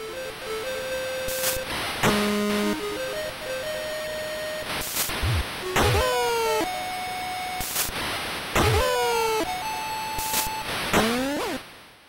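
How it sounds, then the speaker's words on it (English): Steady hiss of static runs through NES Major League Baseball gameplay, broken by loud bursts of noise and bright chiptune beeps and rising tone sweeps from the game. "The background sound is literally just static with an occasional baseball tune."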